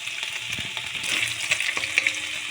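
Two dried red chillies and two bay leaves fry in oil left over from frying prawns, making a short, steady sizzle with small crackling pops.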